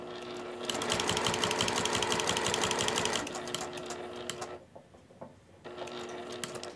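A sewing machine stitches quilt binding close up, a rapid, even mechanical chatter for a few seconds that stops, gives way to a couple of soft clicks, then starts running again.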